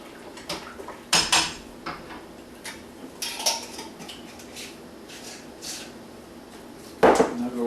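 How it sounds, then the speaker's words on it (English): Stirring ingredients into a small batch of brewing fruitcake barleywine in a pot: scattered clinks and scrapes of a utensil against the pot, loudest in a sharp knock near the end, close and without talk. "Just put and stir it in."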